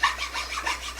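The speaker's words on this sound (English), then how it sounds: "we just use a little round file for that, and this is actually just a chainsaw file" A small round chainsaw file rasps along a carved wooden flame finial in quick, even back-and-forth strokes, close and steady, with no talking.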